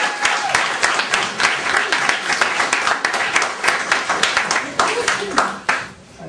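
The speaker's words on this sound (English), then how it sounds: "Let's give her a round of applause." A live audience bursts into a loud, dense round of applause, many hands clapping steadily for about six seconds before thinning out at the end.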